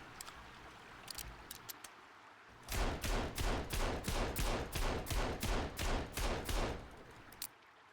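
Gunfire in the survival game Sons of the Forest: after a few scattered faint clicks, a steady string of about a dozen evenly spaced loud shots rings out, fired one after another at a regular pace.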